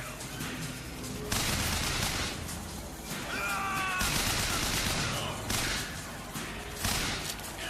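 Sustained automatic machine-gun fire in a BioShock firefight, dense rapid bursts packed closely together at steady loudness for the whole stretch, with no talk over it.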